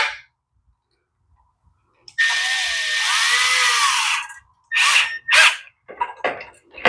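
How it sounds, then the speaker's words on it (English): A power tool whirs in a steady two-second burst, then fires off two short pulses, driving screws on a Lifan 212 engine. It is loud and close against an otherwise quiet bench, with light clanks after. "Let's tighten up our screw and put our bolts back in."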